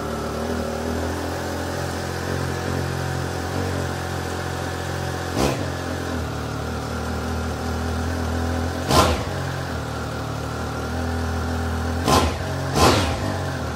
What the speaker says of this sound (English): I wanted to have a close-up listen to what that engine actually sounded like